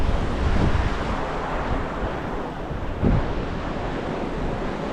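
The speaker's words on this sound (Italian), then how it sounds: "il vento si è alzato" Wind gusts across an open stretch along a river, a steady broadband roar with rising bursts around the first second and again near three seconds, loud and continuous with no voices.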